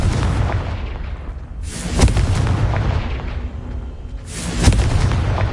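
Fire-spell blasts from Hogwarts Legacy on PS5, loud booming bursts at about two seconds and again near four and a half seconds, over a constant rumbling game soundscape with no talk.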